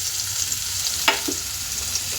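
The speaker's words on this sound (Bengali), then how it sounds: "এবার ওই তেলে আমি এই যে পেঁয়াজ আর কাঁচা লঙ্কা দিয়ে দেবো ভালো করে লাল করে একটু ভেজে নেবো" Onion and green chili fry in hot oil with a steady, close hiss, broken by one sharp clink of a spoon against the pan.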